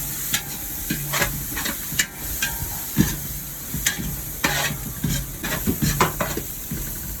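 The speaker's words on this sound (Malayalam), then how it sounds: "കുറച്ച് തക്കാളിയും പച്ചമുളകും ഇട്ട് വാട്ടാം." Tomatoes and green chillies sauté in a pan with a close, steady sizzle, punctuated by frequent scraping stir strokes and clinks of a utensil against the pan, with no talking.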